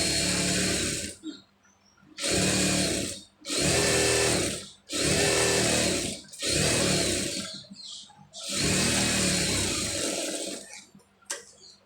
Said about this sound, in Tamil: அப்படியே திருப்பிட்டு கரெக்டாக அந்த ஒட்டில் வந்து ஒரு தையல் போட்டுக்கிறோங்க